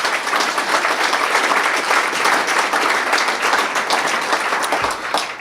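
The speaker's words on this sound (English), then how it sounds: "Give them a nice round of applause" A crowd at a city awards event applauds a business-of-the-year recipient with dense, steady clapping that stays loud and even throughout.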